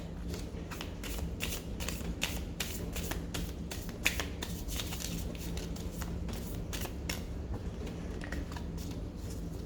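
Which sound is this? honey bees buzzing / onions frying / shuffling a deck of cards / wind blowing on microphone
shuffling a deck of cards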